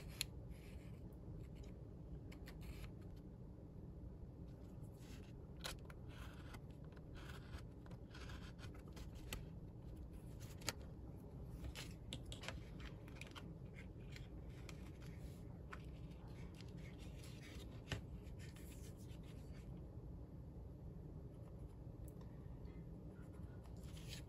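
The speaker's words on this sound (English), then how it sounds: "then I will draw a line from the underside" A pencil drawing a line on building material during dwelling construction, heard as a soft, faint scratching and rubbing that continues steadily under quiet room noise with scattered light ticks.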